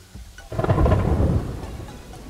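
Rain and thunder in the video game Terraria: a deep thunder rumble swells in after a brief pause and slowly fades over a steady hiss of falling rain, with no voices.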